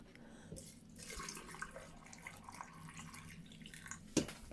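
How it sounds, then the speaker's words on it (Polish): Salt brine pours from a pot and splashes faintly for a few seconds, ending with a brief louder splash. "po prostu wleję prosto z garnka"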